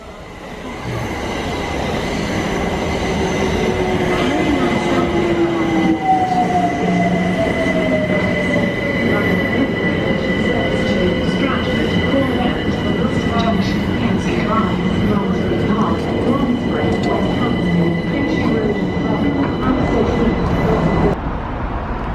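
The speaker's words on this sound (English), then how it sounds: "Train coming in behind me." A train rumbles steadily into Shepherd's Bush station, wheels squealing and screeching above a loud continuous roar, close and sustained throughout.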